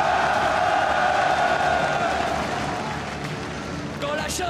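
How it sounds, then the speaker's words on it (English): Large arena crowd at a League of Legends esports semifinal in Paris, cheering and applauding in a dense roar that eases slightly, with an announcer's voice speaking over it. "une salle d'applaudissements, s'il vous plaît"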